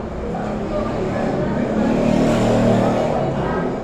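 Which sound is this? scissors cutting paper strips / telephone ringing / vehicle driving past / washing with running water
vehicle driving past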